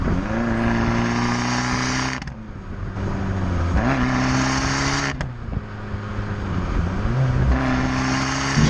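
An Abarth 595 engine revs hard through its Monza quad exhaust, rising and falling in pitch several times, loud and close, with no one talking.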